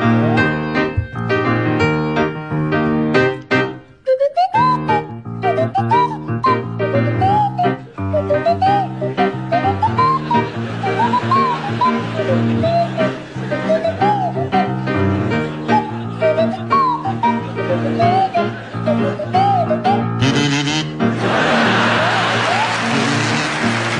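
A kazoo and a swanee whistle play a song in a comedy radio panel show performance, the whistle sliding up and down over a steady, buzzy melody throughout, ending in a burst of crowd noise.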